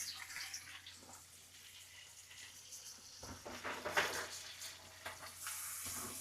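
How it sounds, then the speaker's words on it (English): Rashers of bacon frying in a pan, with a soft, steady crackling sizzle alongside light clatter, fairly quiet throughout. "Couple of rashers of bacon in there."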